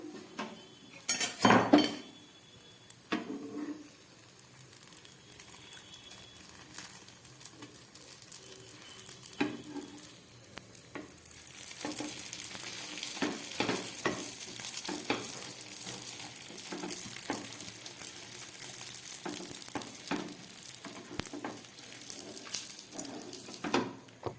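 Sabudana dosa fries in a pan with a soft, continuous sizzle, punctuated by clinks and scrapes of a utensil against the pan, louder bursts near the start and a busier sizzle in the second half; no one speaks.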